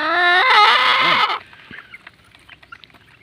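A mother hen clucks loudly and close for about a second, then faint scattered clucks and pecking sounds from her chicks follow in the background.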